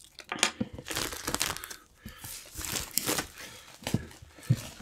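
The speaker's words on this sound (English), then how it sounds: "The only tool I'm using right here is an X-Acto blade just to get the shrink wrap off" Crinkling and tearing of shrink wrap being sliced off a board game box with an X-Acto blade, a run of close, irregular plastic crackles and rips.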